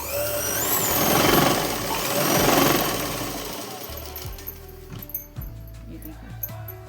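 A sewing machine stitches a shalwar seam, a dense, loud mechanical whir that fills the first few seconds before dropping away, followed by a few softer clicks and knocks.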